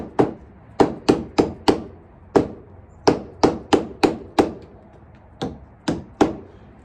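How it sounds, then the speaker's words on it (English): A rubber mallet tapping a nail into a water-damaged camper wall, with about fifteen crisp, close knocks in quick groups separated by short pauses. "So I'm just taking a rubber mallet."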